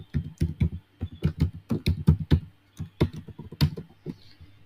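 Quick, uneven keystrokes clatter on a computer keyboard as a password is typed, close and clear with short pauses between bursts.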